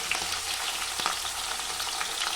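Capsicum and green chillies fry in oil, giving a continuous, even hiss of sizzling with faint stirring, close and unbroken throughout.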